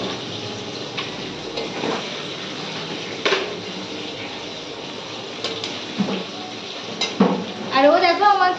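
Food frying in a pan with salt and turmeric, a steady sizzle broken by stirring scrapes and utensil knocks, close by, with a voice and other noise rising near the end.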